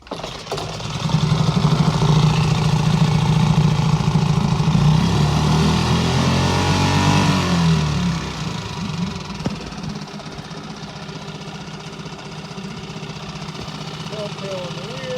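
A 5 hp Coleman outboard motor running after being pull-started, loud steady knocking engine drone with a rough, rattling idle that shifts pitch midway and settles into a quieter steady run.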